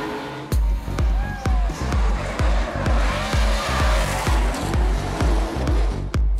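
A compact drift car slides sideways along a wall on a street course, engine pulsing in rhythmic bursts while tires squeal, loud and close, with crowd noise underneath.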